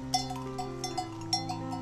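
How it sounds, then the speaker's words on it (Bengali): Bells hang from the necks of cattle grazing near a forest trail in the hills of North Bengal, their hollow clanks coming in an irregular, loose rhythm over a steady low hum. "জঙ্গল থেকে বেরিয়ে আবার যখন এই গরুর গলার ঘন্টার আওয়াজটা পেলাম"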